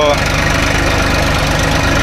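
A tractor engine running steadily in a field, with a close, loud, continuous low rumble and rhythmic chugging throughout, no talking.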